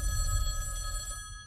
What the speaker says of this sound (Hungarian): Előbb csörögni kezd a telefon